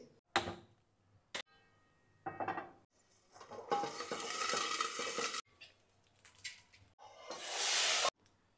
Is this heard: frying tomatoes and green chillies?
yes